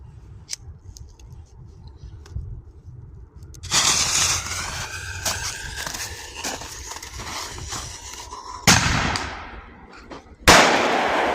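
Homemade firework cat bombs made from 2-liter bottles go off outdoors near a camping shelter, sharp bangs and crackles punctuating the scene, with a loud blast near the end and debris rustling after.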